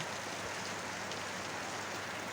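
Steady drizzling rain pattering on a tin roof in a village setting, a continuous even hiss of drops with no voices.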